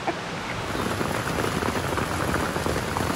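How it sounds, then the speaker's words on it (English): Heavy rain in Costa Rica pours down in a dense, steady hiss, loud and continuous with no pauses, drumming on a nearby surface. "That is some rain."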